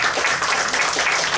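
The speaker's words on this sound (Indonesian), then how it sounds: "Kita berikan tepuk tangan." An audience at a book launch breaks into dense, steady applause that fills the room and stays loud throughout the short burst.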